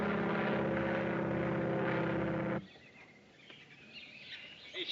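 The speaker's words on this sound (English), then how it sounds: "That won't hurt you. It's only an airplane." An airplane passing overhead in a 1938 film scene, a steady droning engine roar for a couple of seconds that then cuts away to quieter outdoor ambience.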